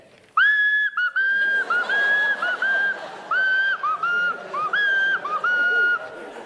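Whistled tones mimic bullets whizzing past during a World War II bombing scene: a string of short, rising and falling whistles in quick succession, loud and close, over a low babble of voices.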